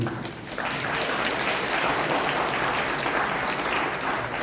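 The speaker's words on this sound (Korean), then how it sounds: "다시 한 번 더 큰 박수 부탁드리겠습니다" Wedding guests in a hall applaud for the bride and groom, a dense, continuous wash of clapping that swells in after a brief quieter start and holds steady and full to the end.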